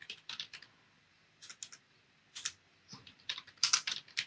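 Quick bursts of keystrokes on a computer keyboard while filling in an Excel spreadsheet, close and fairly quiet, with short pauses between the runs of taps and no voice.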